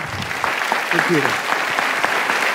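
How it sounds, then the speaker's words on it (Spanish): A short burst of audience applause at an evangelical stage event, clapping for champions, with a voice speaking over the brisk, even patter of hands. "Ese aplauso tiene que ser para estos campeones"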